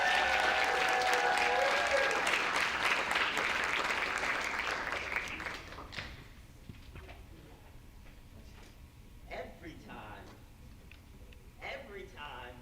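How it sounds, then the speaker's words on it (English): An audience at a law school tribute event gives a warm round of applause, loud dense clapping that fades after about six seconds into scattered claps and room noise. "Please give her a warm round of applause"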